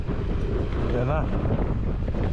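Strong wind buffets a boat, a constant loud roar of gusts battering the microphone, with a brief voice partly buried under the noise.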